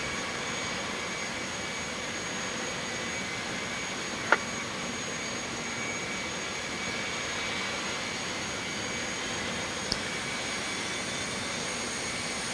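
Number 1 jet engine spools up in a home cockpit flight simulator, a steady whining roar that holds throughout, punctuated by two faint clicks.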